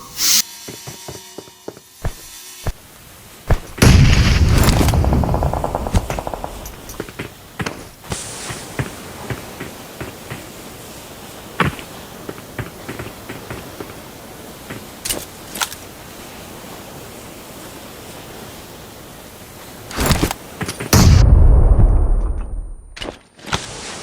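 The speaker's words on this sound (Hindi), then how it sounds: "यहाँ पे कुछ ज़्यादा ही ग्रेनेड्स आ रहे थे" Grenade blasts and gunfire in a battle royale video game, with heavy booming bursts near the start and again near the end, and scattered sharp shots and clatter in between, with no talking.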